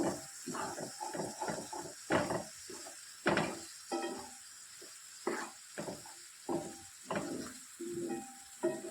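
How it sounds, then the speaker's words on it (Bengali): Spiced masala paste sizzles and crackles as it is fried down in a pan for a rohu fish head and moong dal dish, with uneven bursts from stirring over a steady hiss. "তবে মশলাটাকে একটু ভালো করে কষে নেব"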